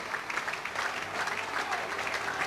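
Football crowd at a 1997/98 Plymouth Argyle v Wrexham match applauding Argyle off at half-time, a steady wash of distant stadium clapping that holds level throughout.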